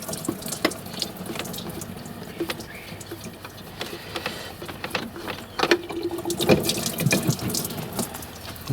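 Diesel fuel splashing and trickling out as a fuel filter is unscrewed from an Iveco engine, a steady watery pour with small drips and clinks, close by and without speech.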